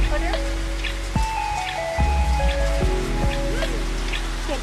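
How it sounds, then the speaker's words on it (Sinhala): Heavy rain patters on a surface at Batu Caves in Malaysia, a continuous close hiss with droplets, under people talking and some tonal hum. "වැස්ස පායන්නේ නැහැ. වැස්ස වැඩි වෙනවා විතරයි."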